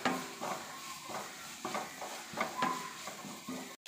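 Onion with curry leaves and green chili being sautéed in a pan, with repeated clinks and scrapes of a spoon against the pan and soft background noise, no talking.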